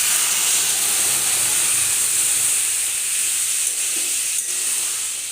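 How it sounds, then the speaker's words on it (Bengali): A paste of ginger, green chilli, whole coriander, whole cumin and tomato fries in a pan with a loud, steady hissing sizzle, close and continuous, with no voices. "এটা দিয়ে এবারে একসাথে এটাকে কষিয়ে নিই।"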